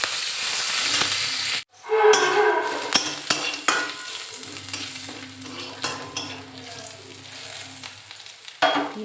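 Ground cumin sizzles and crackles in hot oil with a steady frying hiss, a spoon stirring and scraping the pan throughout, briefly cut off once before the sizzle resumes louder.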